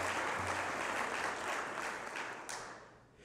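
Conference audience applauds elected officials, a steady wash of many hands clapping at once, dense and sustained, fading slightly toward the end with no talk over it.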